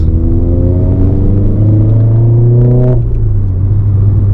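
A Renault Clio RS 200 fitted with a K-Tec induction kit, heard from inside the car as its engine drones loudly and climbs steadily in pitch under acceleration before the revs drop sharply at a gear change.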